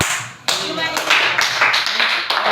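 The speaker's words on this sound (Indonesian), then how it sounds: "bisa berikan tepuk tangan semuanya dari kelompok Jumadil" A class of high school students claps for a group that has just presented, with close, dense clapping running the whole time and a voice speaking over it.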